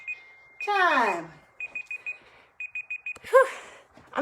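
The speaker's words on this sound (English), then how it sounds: "I'm going to turn off my ringer on my Facebook phone" A phone ringer beeps in short repeated bursts, trilled pulses in two groups, mixed with a brief sweeping tone and a loud voice exclamation, close-miked during an at-home boxing workout.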